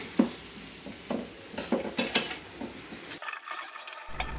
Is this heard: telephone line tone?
no